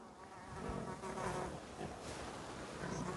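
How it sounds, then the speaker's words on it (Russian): A fly buzzes continuously close by near a cave, a soft, steady droning hum with slight wavering, fairly faint and with no speech. "Муха греческая, ну вали."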